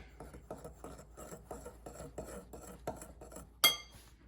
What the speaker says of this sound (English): now I'm gonna stir that up a little bit